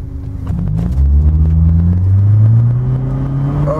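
A Volvo 740 turbo accelerating hard on a road, its engine rising steadily in pitch as the revs climb, loud and close from inside the cabin.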